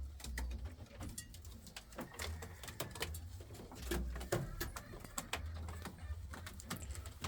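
Indian fantail pigeons in a loft give soft, low coos in a few separate bursts. Light scratching and clicking noises sit in a quiet background.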